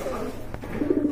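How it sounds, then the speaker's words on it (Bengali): A pair of high-quality, big-size Afsan grizzle pigeons coo softly at close range, with low, murmuring calls rising near the end. Background hum is present and no one speaks. "বন্ধুরা এক জোড়া দেখতে পাচ্ছেন এখানে আফসান গ্রিজেল, হাই কোয়ালিটি ফুল কবুতর"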